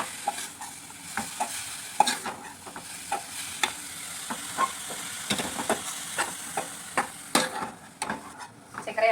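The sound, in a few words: carrot halwa being fried and stirred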